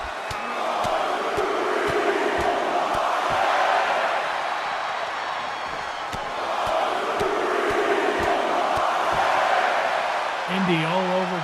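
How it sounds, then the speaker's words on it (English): A wrestling crowd at an HCW Night of Terror show chants in steady unison, loud and continuous, with rhythmic sharp thuds punctuating it and a brief whoop near the end. "The crowd saying this is awesome"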